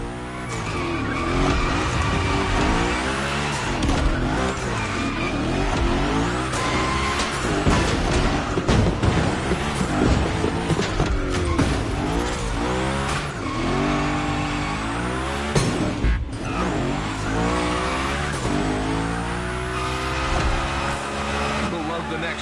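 Hoonicorn car sliding through a video game gymkhana course, a continuous loud engine roar with tire squeal and skidding that holds steady throughout, with a voice talking over it at times.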